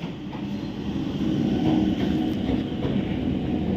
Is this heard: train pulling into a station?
yes